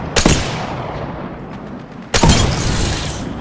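Gunfire in a shooter video game: two loud, sharp blasts about two seconds apart, each followed by a dense, rumbling burst of shots and debris.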